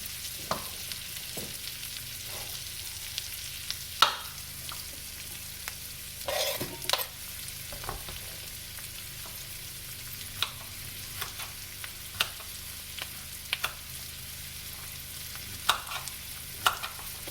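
Carrots and zucchini stir-fry in a skillet, giving a faint steady sizzle under occasional soft scrapes and taps of a utensil, close by and without talk.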